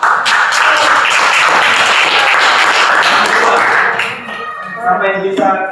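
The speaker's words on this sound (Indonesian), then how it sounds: "Tepuk tangan buat Leo." Classroom applause for a student after a discussion of generative AI, a dense burst of many hands clapping that fills most of the clip before fading, with voices talking over the tail end.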